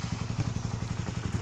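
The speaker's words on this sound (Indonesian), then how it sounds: "yang knalpotnya knalpot ori, tapi udah kita bobok juga" Suzuki Shogun 110cc motorcycle with its original exhaust bored out, idling nearby with a steady, rapid low throbbing pulse and a faint rattly clatter, no voices.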